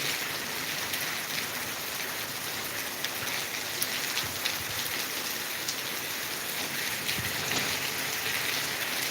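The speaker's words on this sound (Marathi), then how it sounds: "कंटिन्यू पाऊस आहे बघा कंटिन्यू कंटिन्यू पाऊस आहे" Steady, continuous rain pours down during a red alert in Latur, a dense even hiss with occasional louder drops pattering on nearby surfaces.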